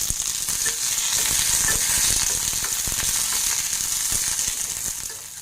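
Green chillies, slit and dropped into hot oil for hotel-style coconut chutney, fry lightly with a loud, steady, close sizzle and a few small crackles and stirring taps.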